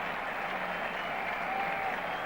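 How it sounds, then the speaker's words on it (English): Cricket crowd at a Test match at Old Trafford applauding a wicket-keeper's world record, a sustained, even roar of clapping from a large distant stadium audience with no voices on top. "So applause for Alan Knott"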